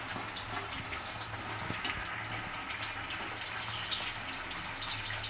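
Ingredients for tomato thokku frying in oil in a pan over a medium flame, a steady, even sizzling hiss that carries on without a break and with no voices.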